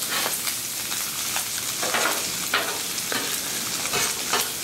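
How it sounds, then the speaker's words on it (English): Salted pork and onions sizzle steadily on a hot Blackstone flat-top griddle, with a constant close frying hiss and occasional scrapes of a stirring spatula. "We're doing our salted pork. We're doing our sauteed onions."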